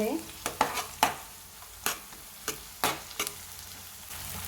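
Ginger garlic paste fries in a pan with a steady sizzle, broken by repeated scraping taps of a spoon stirring it, close and fairly quiet.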